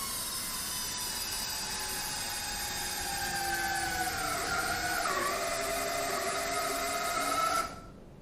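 A cushion clutch electric screwdriver runs at its highest torque setting, a steady motor whine whose pitch sags as the screw drives in and strips the base material, then cuts off abruptly.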